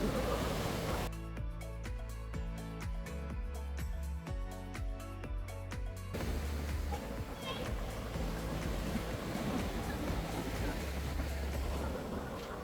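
Sea waves washing onto Mui Ne beach in Vietnam, a steady broad surf roar; music with a regular beat plays over it for the first half, and the waves continue alone afterward.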